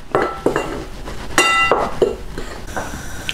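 Seasoned flour and Memphis Dust rub being mixed in a bowl, with a series of clinks and scrapes of utensil against the bowl at irregular intervals, close and moderately loud.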